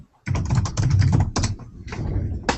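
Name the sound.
vigorous typing on a computer keyboard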